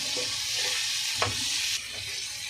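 Black chickpeas hit hot oil for veg chowmein, giving a steady bright sizzle with a brief clatter from stirring, close up and without talk.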